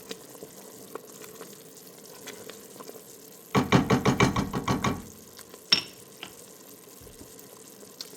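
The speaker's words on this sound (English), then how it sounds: "I come in here and I stir the bottom, scraping off any residue on the sides to make sure that it doesn't burn" A utensil stirs and scrapes the bottom and sides of a pot of coconut oil reducing over low to medium heat, heard as a short burst of rhythmic scraping knocks and then a single clank amid quiet background.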